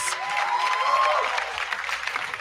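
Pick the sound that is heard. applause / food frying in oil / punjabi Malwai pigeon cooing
applause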